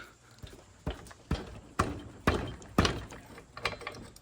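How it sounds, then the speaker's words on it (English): An adjustable wrench ratchets on a nut on a swing car's front motor mount, a series of about eight sharp, evenly spaced metallic clicks close by, with no talking. "we're gonna tap it a little bit with our hands, just to make sure with this adjustable wrench that it's in there pretty tight"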